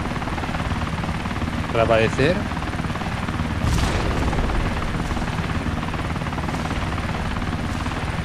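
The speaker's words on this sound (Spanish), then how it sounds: "me va a atropellar con el helicóptero" Helicopter in the video game Arma 2, a loud, continuous rotor drone close by that runs throughout, with someone briefly speaking over it.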